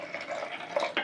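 Water is poured into a pan of fried egg for making two packets of Maggi noodles, a short, soft splashing stream with small bursts near the end.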